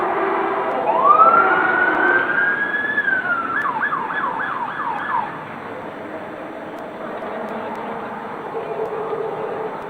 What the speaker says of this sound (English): those sirens you heard earlier